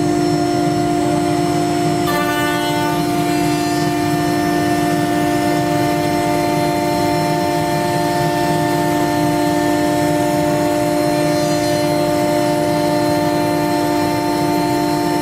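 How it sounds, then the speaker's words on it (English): An Axiom CNC router spindle at operating RPM cutting MDF gives a loud, steady whine with strong tonal hum and a broadband cutting rasp throughout, with no talk. "our spindle will fire up to operating RPM, and then the job is off and running."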